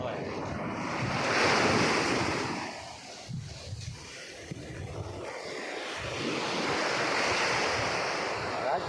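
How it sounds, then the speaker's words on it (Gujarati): Waves rolling and crashing on a shore with a steady roar, swelling loud at the start and end, with gusty wind noise across the microphone. "દરિયાનો મોજાનો અવાજ બહુ આવે"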